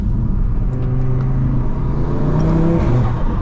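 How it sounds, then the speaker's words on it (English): A 520hp Audi RS3 accelerating at night, its up-front intake droning loudly with a deep, steady engine rumble and rising whir heard from inside the car, no talk. "Oh, you hear the intake up front"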